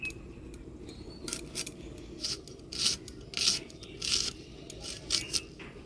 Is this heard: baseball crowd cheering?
no